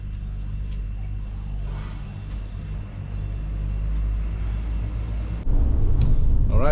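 A big bus on the road to Patong rumbles with a heavy low engine drone, growing louder and rougher near the end as it accelerates.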